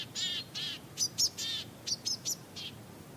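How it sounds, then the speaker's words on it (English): Gray-headed chickadee from Alaska gives a series of thin, high chirps and harsher notes in quick, irregular bursts, fairly faint over a quiet background. "we have the Alaskan gray-headed chickadee"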